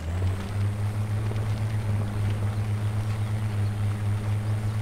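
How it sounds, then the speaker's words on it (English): Land Rover Defender engine in the off-road driving game Spintires, a steady low droning hum running continuously and alone at even loudness. "the engine noise of the Defender is remarkably nice"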